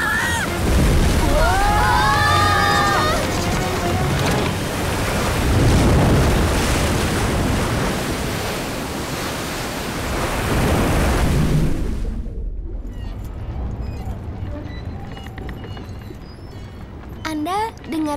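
Ocean waves crashing and sloshing around a ship at sea during a storm, loud surging water for about twelve seconds under voices, then dropping to quieter talk and faint background noise.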